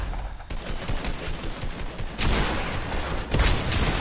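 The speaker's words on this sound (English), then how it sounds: "One of them shooting at me." Dense, sustained gunfire in a shooter video game: loud, overlapping bursts and rattling shots running almost without a break, with no talking.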